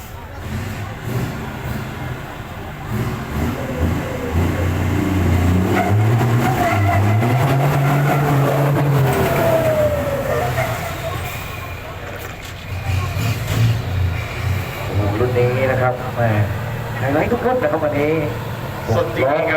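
Six-wheel four-cylinder trucks race on a track at Thep Nakhon circuit, engines droning and rising in pitch, loud and close, under near-constant talk from a commentator.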